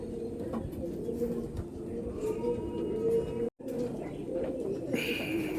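Golden-eyed pigeons coo in low, rolling, repeated calls close by, over a continuous murmur of other birds, with a brief dropout partway through.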